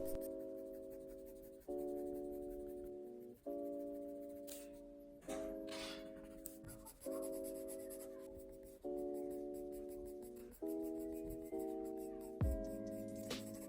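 Pencil shading on paper for a portrait drawing gives a soft, continuous scratching and rubbing, heard up close beneath steady background music.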